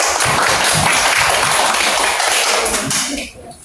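An elementary school class claps together on cue in a classroom, a loud, dense burst of applause that fills about three seconds before quickly dying away.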